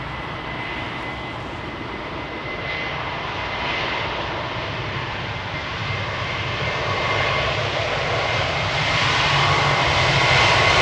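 Jet airliner with CF6 engines at London Heathrow spooling up for departure, a broad steady roar that slowly builds in loudness and whine over the whole stretch, close and continuous with no talk.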